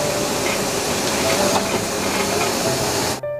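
A pot of water coming to a boil while hotel-style jajangmyeon is cooked gives a loud, steady rushing hiss that cuts off abruptly near the end.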